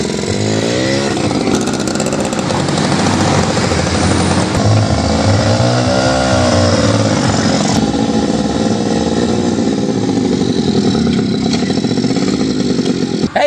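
Motorcycle taxi engine running loud and close, a continuous droning motor with rising and falling revs across the whole stretch.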